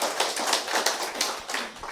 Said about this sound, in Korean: 박수 한번 치시고 하시죠